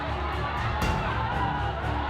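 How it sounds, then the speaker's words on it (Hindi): A crowd of thousands of people during street unrest, a dense roar of many distant voices with shouts and whoops rising and falling, and one sharp burst in the middle. "हजारों लोगों का शोर सुनाई पड़ रहा है"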